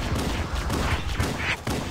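Rapid gunfire in Halo: Combat Evolved, a dense string of sharp shots in quick succession over a noisy battle background, no talk.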